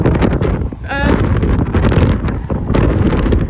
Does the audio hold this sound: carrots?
no